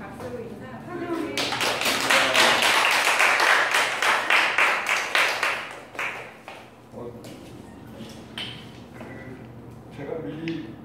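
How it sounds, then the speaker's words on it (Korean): An audience of middle-school teachers gives a warm round of applause to welcome a visiting teacher, dense clapping that peaks and then thins to scattered claps as a voice talks. "오늘 힘들게 오신 선생님께 박수로 인사 환영해"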